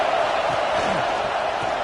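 Stadium crowd noise from a college football video game, Oregon versus Texas A&M, a steady loud roar with a broad wash of cheering and whooping that holds level throughout, no distinct voices standing out.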